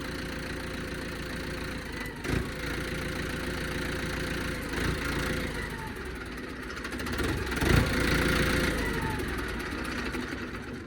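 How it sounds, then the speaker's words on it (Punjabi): An Arjun Novo tractor engine that won't shut off idles with a steady low rumble and chugging, running on without stopping, with a couple of brief knocks. "ਬੰਦ ਹੀ ਨਹੀਂ ਹੁੰਦਾ ਇਹ ਟਰੈਕਟਰ"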